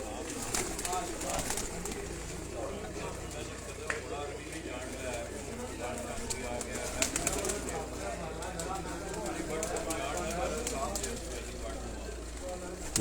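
Pigeons being readied for the Jeth 2023 flying season at a loft in Sialkot, cooing softly and steadily under continuous nearby talk, with occasional faint wing flutters.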